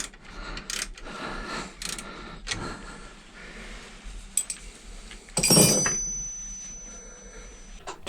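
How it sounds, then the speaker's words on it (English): Ratchet spanner worked on a car alternator belt adjuster, giving short metallic clicks and ratcheting bursts in irregular spurts, with a louder rattling clink near the middle, close and unaccompanied by speech. "I'm using a ratchet spanner behind and a ring spanner to the front."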